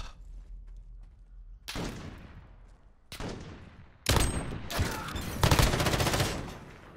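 Close, heavy gunfire in Call of Duty: Modern Warfare, with a single booming shot, another a second later, then a dense sustained burst of rapid fire that rolls on for several seconds.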